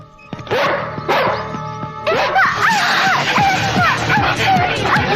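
A police dog barks repeatedly and excitedly amid a loud, busy scene, sharp barks recurring over a dense, noisy background with shouting and commotion.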